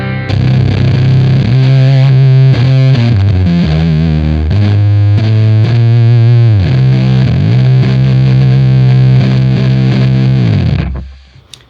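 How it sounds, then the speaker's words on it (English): Electric guitar through a Fuzzcoven fuzz pedal plays a loud, thick, saturated doom riff of sustained chords and bends, ending with the notes cut off and fading out. "Here's the Fuzzcoven by itself."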